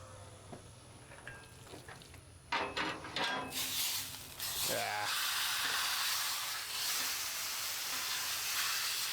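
Carne asada meat hits a hot griddle with a sharp burst at first contact, then settles into a loud, continuous sizzle that fills the rest of the clip, with a few metallic tool clanks early on.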